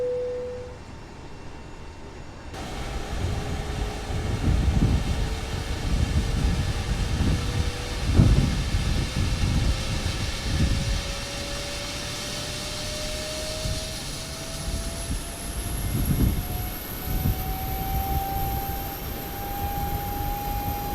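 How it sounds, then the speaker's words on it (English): A Boeing 777 APU starts up in Microsoft Flight Simulator 2020 with a rising turbine whine that climbs steadily in pitch over a continuous roar, with soft thumps and rumbles beneath. "We are starting the APU now"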